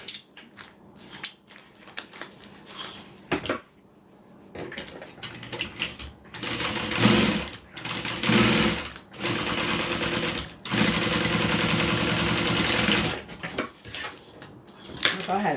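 A sewing machine top stitching fabric along a zipper panel, running close and steady in several stretches of varying length with brief stops between, while a voice talks faintly in the background.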